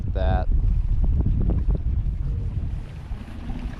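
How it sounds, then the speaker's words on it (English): Strong wind buffets a boat on a lake during spring crappie fishing, a steady loud rumbling roar of gusts across the microphone that runs the whole time, with a brief tone at the start and faint talk mixed in. "now the wind is absolutely ripping"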